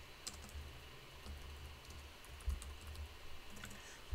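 Quiet, soft clicking of fingers typing on a computer keyboard, in irregular bursts of keystrokes against a low steady background hum, no speech.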